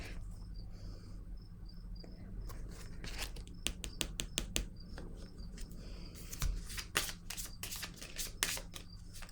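Tarot cards are handled and set down, with soft shuffling, sliding and tapping in irregular bursts over a steady background of chirping crickets.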